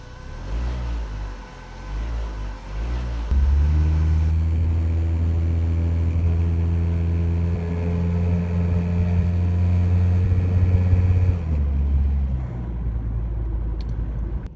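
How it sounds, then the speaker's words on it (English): A Dodge Neon engine with newly replaced fuel injectors hums steadily as the car drives along a road, with a low rumble and gear-change shifts in pitch, no talking. "I'm going to take it for a spin out on the road,"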